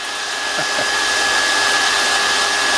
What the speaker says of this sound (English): now the RDS decided to go off